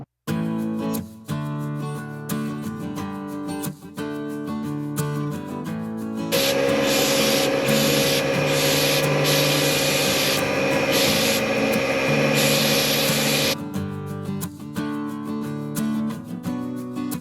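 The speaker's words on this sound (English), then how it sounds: "now I'm just gonna spray this with some gel coat and hope things go well" Gel coat sprayed onto the fiberglass hull of a water ski boat in a garage: a loud, steady hiss runs unbroken for about seven seconds, with quieter workshop sounds before and after.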